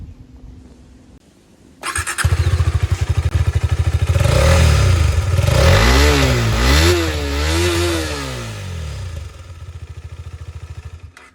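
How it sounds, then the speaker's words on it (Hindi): A KTM Adventure 250 motorcycle with a single exhaust starts up after a quiet moment, idles with a chugging beat, then blips the throttle in several sharp revs before settling back to idle. "मैं जो तुरंत आपको इसका एग्जॉस्ट नोट सुना दूँ।"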